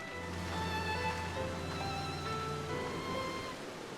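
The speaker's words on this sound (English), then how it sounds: "Let's get out of this rain." Rain falls in the Final Fantasy XIV game world as a steady, soft patter that continues evenly throughout, with sustained tonal game music playing over it.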